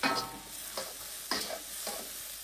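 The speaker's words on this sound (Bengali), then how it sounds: "পেঁয়াজ রসুন এবং কাঁচামরিচ এই তিনটে ইনগ্রিডিয়েন্ট একসাথে কড়াইতে দিবেন" Onion, garlic and green chilli stirred and frying in a wok for noodles, a soft continuous sizzle with three or four scraping stir strokes, fairly faint and close.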